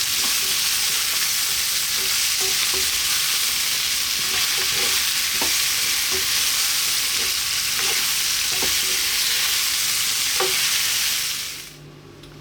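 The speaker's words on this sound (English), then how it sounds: "And then just like another 2 to 3 minutes, stir frying these around." Green onions and salt and pepper chicken wings are stir-fried in a hot pan with a steady, close sizzle and occasional scraping stirs, running continuously before cutting off abruptly at the end.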